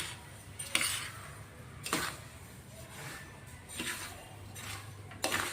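Dry mouth freshener ingredients being mixed in a container, a series of scraping, rattling strokes that come in irregular bursts every second or so, close and moderately loud with no talk.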